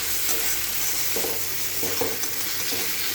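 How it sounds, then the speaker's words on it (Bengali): A spice paste fries in a pan for a fish curry, a dense near sizzle with brief scraping stirs. "মশলাটা একদম ভালো করে ভাজা হোক।"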